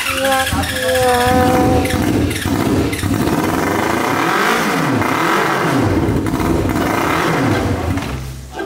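Three motorcycles, among them an MT-07 and an XJ150 running on a single piston, rev hard while standing in a swimming pool. Loud, close engine roar rises and falls continuously for the whole stretch, with no talk over it.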